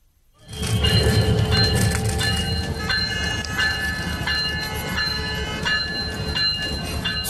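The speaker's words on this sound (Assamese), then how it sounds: "প্ৰথমবাৰৰ বাবে বাংলাদেশৰ পৰা ভাৰতলৈ চলিল ৰেল।" A passenger train on the Dhaka–Agartala service, running from Bangladesh into India, rolls in quickly from silence into a loud, steady rumble of wheels and carriages, with ringing metallic tones and faint rhythmic clacks; no one talks.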